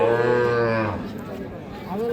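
A dairy cow at a crowded livestock market gives a single long, loud, low moo up close, followed by a stretch of general market murmur and a hint of another call at the end.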